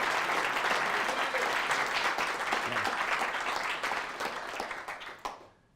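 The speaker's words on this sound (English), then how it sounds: "Give a round of applause" Sustained crowd applause at a business mastermind event, dense and steady clapping from a large audience, fading out near the end.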